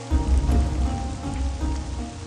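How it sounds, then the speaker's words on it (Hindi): Steady rain falls and patters on surfaces in a drama scene, a close, continuous hiss with soft drops and low rumble throughout, with no talking. "पता भी है कि इतनी बारिश हो रही"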